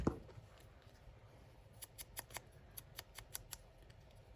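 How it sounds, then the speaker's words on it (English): Banner punch cutting shapes out of gift wrap paper for Christmas crafting, a series of sharp crisp snips and clacks around the middle of the clip, close and fairly quiet, with no talk. "I've got my banner punch. Cut one of those out."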